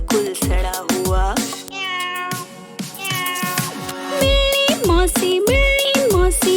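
A cat meows repeatedly in clear, loud, drawn-out calls set over a sung children's rhyme with musical accompaniment, the meows recurring every second or so throughout.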